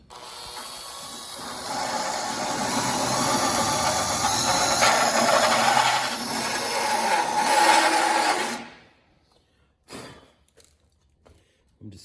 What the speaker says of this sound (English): That's just a die grinding tip on a drill